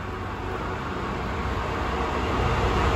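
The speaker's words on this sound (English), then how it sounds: "The heavily delayed 1219 DB Cargo UK service from Dollands Moor to Wembley" A DB Cargo UK freight train, the heavily delayed Dollands Moor to Wembley service with a fault, rumbles past at Ashford International, a steady, loud, broadband roar that holds constant and builds slightly toward the end with no talking.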